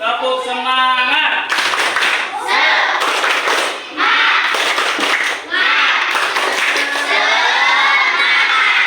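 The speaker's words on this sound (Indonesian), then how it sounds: "Untuk menambah semangat kita hari ini, kita tepuk semangat dulu ya." Children clap a rhythmic 'tepuk semangat' chant in a classroom or school assembly, loud and close, with bursts of shouting and cheering between sharp patterned clapping.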